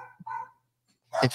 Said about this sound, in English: I'm sorry if you hear my dog barking.